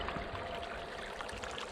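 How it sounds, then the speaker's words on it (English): Water flows steadily through a small channel swollen by overnight rainstorms, a faint continuous trickling and gurgling babble outdoors with no voices. "this little channel here would normally not have water in it this time of the year. But from all that rain, we got some water here this morning"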